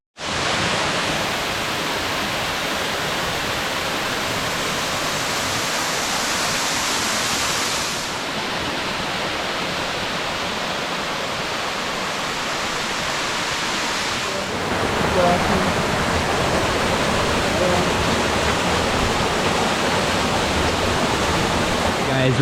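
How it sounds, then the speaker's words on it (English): Close and constant, the Blue Basin waterfall in Diego Martin, Trinidad, roars with a dense rush of falling water that grows slightly louder toward the end. "we've reached waterfall number 2 and it is beautiful"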